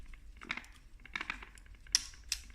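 Bolts come off an Acqua Brevetti Minidue 17 lpm water housing with a few sharp, close clicks and taps spaced unevenly over a quiet background.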